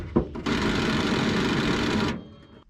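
An impact wrench whirs steadily on a bolt for about two seconds at close range after a brief knock, in a junkyard while parts are pulled from an International Scout, then cuts off and winds down.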